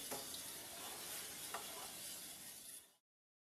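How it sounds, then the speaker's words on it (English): Pandan rice dessert dough (Lao khao pahd) stirred in a pot over medium-high heat, giving a close, continuous scraping and bubbling hiss with a couple of faint clicks, cutting off abruptly near the end. "you have to keep stirring until it's cooked"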